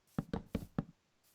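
Wooden door being placed in a Minecraft game, four quick hollow knocks in an even rhythm, close and fairly quiet, with no voice over them.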